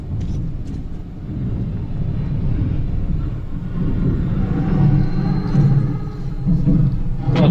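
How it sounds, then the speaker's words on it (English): Automated trains rumble through a tunnel in Metro 2033 Redux, a low, steady mechanical drone swelling gradually as they approach, with faint metallic squeals and clanks over the top. "Automated trains."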